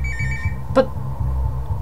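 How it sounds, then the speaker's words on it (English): A phone rings once in a horror video game, a brief sharp ring over a steady, droning background hum. "You look at your phone, it doesn't show who's calling, only a black screen."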